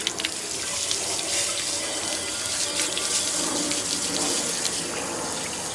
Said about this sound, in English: So I'm going to wash that off pretty well.